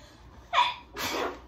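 A single sharp sneeze, a quick intake then a breathy burst, close and fairly quiet.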